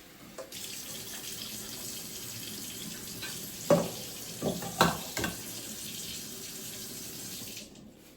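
Running water pours steadily while cooked ada, rice-flour pieces, is strained in a kitchen, with a few louder splashes and clatters partway through.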